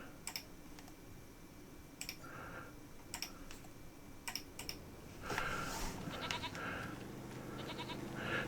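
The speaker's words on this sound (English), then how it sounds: "ten middle-aged goats" Goats bleating in a farming video game, a few separate bleats rising over soft keyboard ticking and clicks, fairly quiet and spaced apart.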